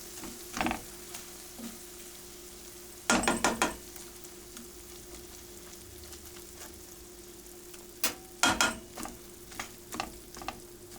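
Minced meat and eggs frying in a pan, a soft steady sizzle broken by a few bursts of scraping and stirring against the pan, close and fairly quiet, with no talking.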